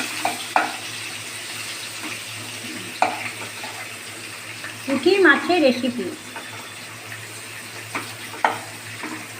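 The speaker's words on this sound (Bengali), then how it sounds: "পেঁয়াজটাকে একটু লাল করে ভাজছি" Onions fry in hot oil for a puti fish curry, a soft steady sizzle with a brief louder burst of stirring midway and a few sharp clinks, while someone talks over it.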